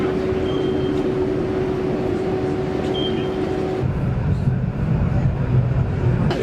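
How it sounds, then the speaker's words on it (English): The old-style T69 Metro tram rolls along its rails with a steady low rumble and continuous rolling noise, a faint sustained tone in the first half and a heavier rumble later, with no talk over it. "Now onto the old-style tram for the very last time."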